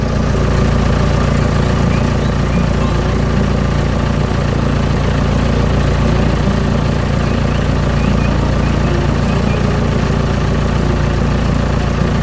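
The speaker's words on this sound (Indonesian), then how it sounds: "Mesin konstruksi hijau sedang bekerja keras di tanah berwarna coklat." A green construction machine works hard on brown ground, its engine giving a steady, loud, continuous low rumble with a constant drone throughout and no breaks.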